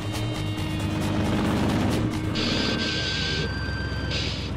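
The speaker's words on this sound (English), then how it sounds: "Feast your eyes on this incredible rock crawling rig." A 1975 Jeep CJ5 rock crawler with a 502 cubic inch engine drones steadily up close on limestone rock, its loud unbroken rumble joined partway through by a high whine.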